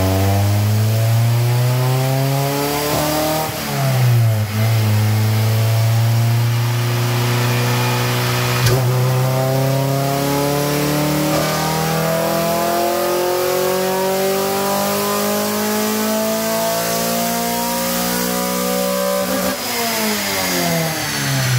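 A Honda F20B engine in an Accord Wagon is revved hard on a dyno, rising in pitch through long sweeps and dropping back between pulls, loud and continuous throughout.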